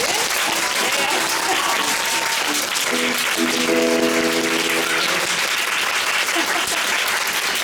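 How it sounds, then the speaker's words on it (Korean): Loud, sustained audience applause fills a concert hall after a musical performance, with a faint held tone sounding beneath the dense clapping partway through. "박수 소리가 엄청 크게 나오네요."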